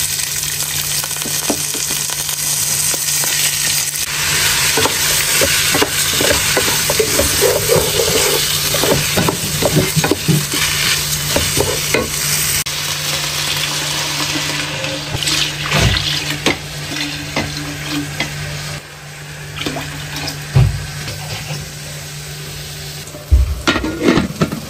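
Masala with chicken and chickpeas sizzles and fries steadily in a pan for the whole stretch, with a spoon stirring and scraping now and then, loud and close, with no talk.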